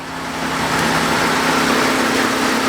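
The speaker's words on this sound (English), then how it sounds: "As you can hear, the engine purrs real quiet." A 1991 Buick LeSabre Custom engine idles quietly and steadily, a soft low hum with a faint even whir, close by and with no voices.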